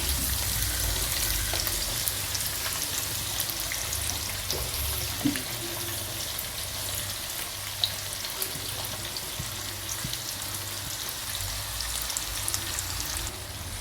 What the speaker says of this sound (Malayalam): അപ്പോൾ ഞാനിതിലോട്ട് 4 സവോള തിന്നായിട്ട് സ്ലൈസ് ചെയ്തത് ചേർത്ത് കൊടുക്കുകയാണ്.